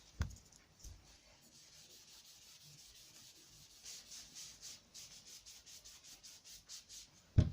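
A cloth wipes grease off CZ Air Arms S200 air rifle parts, making faint, repeated rubbing strokes in a soft, steady rhythm.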